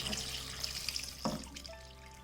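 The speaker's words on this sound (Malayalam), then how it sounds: "ഞാൻ ഇതിലേക്ക് 1 ലിറ്റർ വെള്ളം എടുത്തിട്ടുണ്ട്, അത് ഒഴിച്ചു കൊടുക്കാം." One litre of water pours into a pot with a soft, faint splashing gurgle that swells briefly midway, then trails off into quiet dripping.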